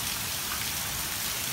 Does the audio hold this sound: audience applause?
no